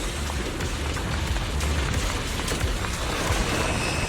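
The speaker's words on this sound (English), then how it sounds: "The wind and rain are picking up." Stormy wind and heavy rain in the video game Zenless Zone Zero, a steady dense wash of noise with low rumbling gusts that holds at an even, fairly loud level throughout.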